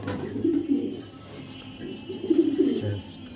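A female racing pigeon coos in two low, throaty bouts separated by a short pause, fairly close, over a steady background hum.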